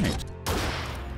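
Rapid gunfire from a mechanical mount in the Biomutant action game, loud close bursts of shots separated by short gaps, dense and harsh with no talking.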